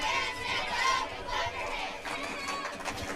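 Crowd chatter fills the stands at a high school football game between Bulloch Academy and John Milledge, a steady murmur of many voices with some children audible, with no single voice standing out.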